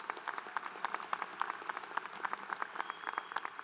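A commencement ceremony crowd claps for graduating students, a fairly faint but steady patter of applause from a distance, with individual claps audible throughout.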